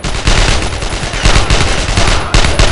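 Dense, continuous gunfire in the World War II shooter Brothers in Arms: Road to Hill 30, rapid machine-gun bursts overlapping with rifle shots, loud and close, with no pauses.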